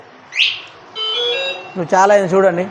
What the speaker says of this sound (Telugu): ఈ బండిని ఎవరైనా దొంగిలించకుండా ఇది ముట్టుకుంటే మాత్రం సౌండ్ వస్తుంది